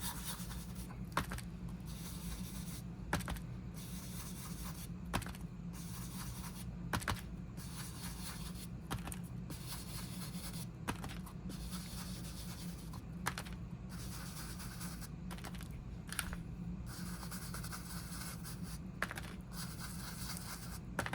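A paintbrush is drawn along the edge of paper and burlap, giving soft, steady scratchy strokes that repeat at a regular pace, close and quiet, with no talk.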